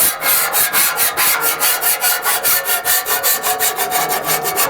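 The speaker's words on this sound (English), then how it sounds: "I'm just gonna scrape this down" Loud, rhythmic metal scraping as a scraper is pushed repeatedly across a Blackstone cast iron griddle to clear debris, about twenty even strokes heard up close with no voices.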